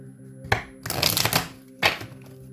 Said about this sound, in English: Let me shuffle these up real quick.